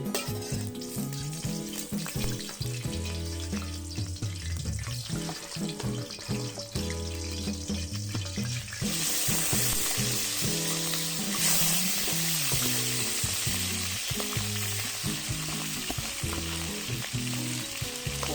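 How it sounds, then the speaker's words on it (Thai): Eel stir-frying in a pan sizzles loudly and continuously with scraping, stirring clatter, and the hiss grows brighter and more intense about halfway through, with no voices. "ผัดชาปลาไหล"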